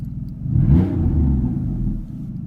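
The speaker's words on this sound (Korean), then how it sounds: "배기 사운드가 엉덩이까지 좀 전달이 되는 것 같습니다" A deep exhaust rumble from a Porsche Boxster with a remote-controlled variable exhaust swells briefly as the car revs, then settles into a steady low burble, close and loud.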